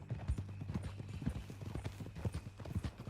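Horse hooves clip-clop steadily in Red Dead Redemption 2, a rhythmic series of close, fairly loud hoof strikes on a hard trail over a low rumbling game backdrop.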